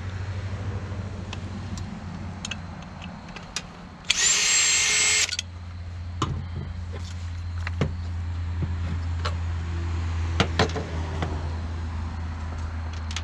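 A high-pitched power tool whines steadily for about a second while cutting and polishing the cylinder ports of an Echo 490 chainsaw, set against a constant low hum with scattered clicks and taps before and after.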